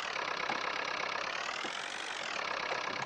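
A tractor engine idles steadily on a farm after pulling in, a continuous mid-pitched chug close by with no speech over it.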